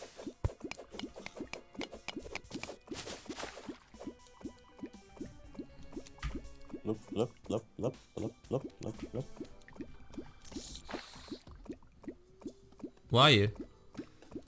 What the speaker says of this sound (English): Damn, that's a lot of water.